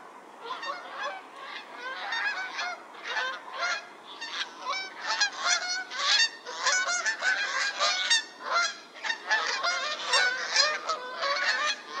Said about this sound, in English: This is your typical two-note Canada goose sound.